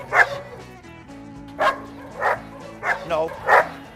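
A dog barks repeatedly at another dog during an obedience training session, with about five sharp, loud bursts spaced irregularly over a few seconds and a faint low hum underneath.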